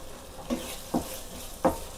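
Egg pepper fry with cream sizzling gently in a pan over a low flame, a soft constant hiss broken by three short scraping stirs, close up and quiet.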